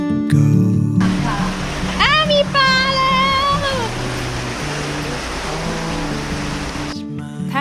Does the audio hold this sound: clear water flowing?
yes